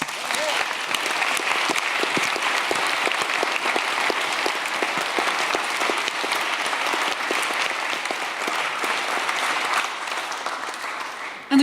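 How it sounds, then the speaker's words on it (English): An audience at a democracy conference in Utrecht gives a speaker a long, even round of applause, many hands clapping densely for over ten seconds before it cuts off. "Round of applause for Richard."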